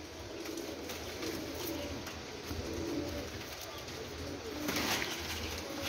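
Golden pigeons coo softly and repeatedly against a faint, hissy background, with no one speaking.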